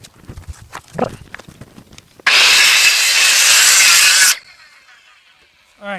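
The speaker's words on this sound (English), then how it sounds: "we're going to take our circular saw, and we're going to cut through both sides" A circular saw cuts through lumber for a mobile rabbit hutch, a loud, steady two-second burst of blade noise that stops abruptly, with faint handling sounds and footsteps before it.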